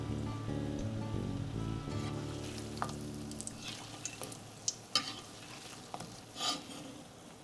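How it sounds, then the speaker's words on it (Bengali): Mung puli pitha dumplings fry in medium-hot white oil in a wok while being stirred, making a soft continuous sizzle with scattered scraping clicks and spatters over a quiet background. "কড়াইতে সাদা তেল মাঝারি গরম করে নেড়ে চেড়ে পুলিগুলোকে গাঢ় খয়েরি রং আসা পর্যন্ত ভেজে নিতে হবে"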